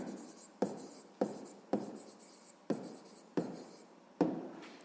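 Pen on notebook paper, writing in six short, rhythmic scratching strokes about half a second apart, each starting with a sharp touch and fading out, close and fairly quiet.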